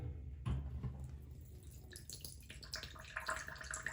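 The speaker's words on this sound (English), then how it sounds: "Then we're going to add water." Water poured into a jar over apple cores held down by a glass weight, a steady splashy pour into the jar with a few louder splashes near the start and no talking.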